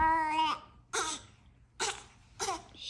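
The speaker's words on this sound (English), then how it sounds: "She likes to fake cough and fake cry." A baby makes a series of fake coughs and whiny fake-cry vocalisations, four short bursts separated by pauses, close and fairly clear, with a longer voiced whimper at the start.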